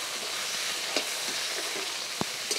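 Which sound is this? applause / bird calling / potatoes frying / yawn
potatoes frying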